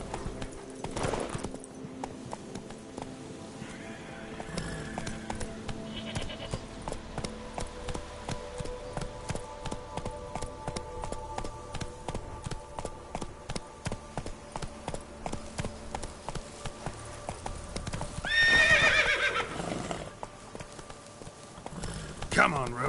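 Roach the horse from The Witcher 3: Blood and Wine gallops with steady, rhythmic clip-clop hoofbeats throughout, joined near the end by a whinny, set against game music and occasional talk.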